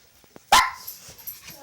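A dog gives one sharp, loud bark at night, followed by a few faint softer yips and rustles.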